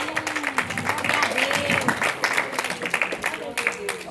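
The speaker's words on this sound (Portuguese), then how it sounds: "Aplauda o nome do Senhor, igreja." A church congregation claps during a worship service, a rhythmic patter of hands heard alongside singing or voices throughout, moderately loud and continuous.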